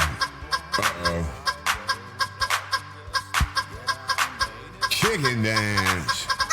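A cartoonish chicken clucks in a video game chicken dance, with a quick run of bouncy, chuckling clucks and a longer squawk near the end, close and fairly loud over a steady game music bed.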